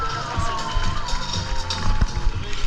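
Applause and crowd noise at a lively French bar event as three people are cheered on, steady clapping and murmur running throughout, with voices mixed into the din.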